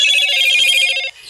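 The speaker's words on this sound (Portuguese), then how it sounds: "desculpa pelo barulho que eu não sei o que tá acontecendo com o meu celular" A mobile phone ringing during a gaming session, a bright electronic warbling ringtone that sounds loud and close for about a second before cutting off abruptly.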